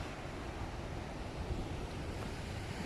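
Sea waves washing steadily on a shore on a breezy day, a soft continuous rushing wash with wind noise, faint and distant, no voices.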